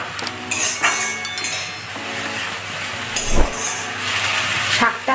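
A spoon stirs kolmi shak with salt and turmeric in a pan, making repeated metallic clinks and scrapes against the pan over a steady low background hiss, close and fairly loud, in irregular bursts.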